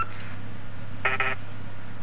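A telephone in the Warzone video game gives a short double burst of electronic ringing tones, fairly faint, set against a low steady background hum.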